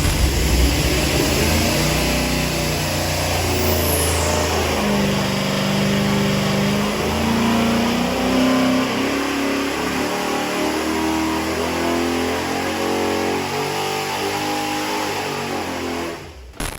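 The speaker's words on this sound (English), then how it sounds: "we'll do one more final run before unhooking the exhaust and hearing how this beast sounds" A 9.3-litre big block V8 engine on an engine dyno roars at sustained high revs, steady and loud, with the pitch shifting between gears and a whine on top before it cuts off at the end.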